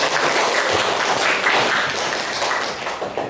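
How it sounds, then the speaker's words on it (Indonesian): A classroom group claps together during a chemistry lesson, a dense, steady patter of applause lasting a few seconds with no talking over it. "Kasih tepuk tangan dulu untuk Ina."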